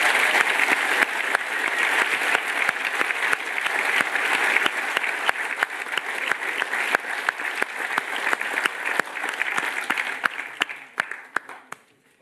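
Sustained audience applause at the closing ceremony of the Troopers 2017 security conference, a dense steady wash of many hands clapping that continues for about ten seconds before fading out.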